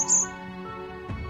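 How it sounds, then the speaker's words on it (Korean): Songbirds in Gyorae Gotjawal forest on Jeju, among them varied tits, great tits and white-eyes, give a single high chirp followed by a quieter sustained tone in calm woodland. "곤줄박이, 지금 보시는 곤줄박이, 그 다음에 나오는 박새, 동박새"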